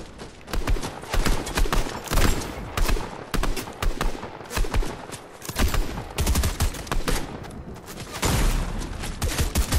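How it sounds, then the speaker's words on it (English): Rapid bursts of gunfire in a video game crackle loudly and repeatedly in uneven volleys, with clattering impacts between shots and no clear talking. "Where are we getting shot at?"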